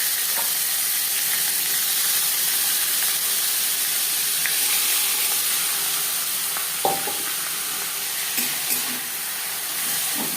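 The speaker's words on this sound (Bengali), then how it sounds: "কালো জিরের সাথে কাঁচা লঙ্কা হালকা করে ভেজে নেওয়ার পর দিয়ে দেবো থোর।" Banana stem frying with nigella seeds and green chillies in a pan, a loud, even sizzling hiss throughout with a few soft clicks of stirring near the end, close by and alone.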